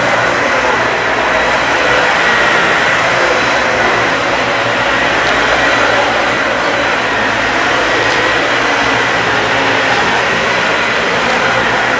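A Dyson Slim Ball upright vacuum cleaner deep cleaning carpet, a loud, constant roaring whoosh of airflow close by, unbroken from start to finish with no talk.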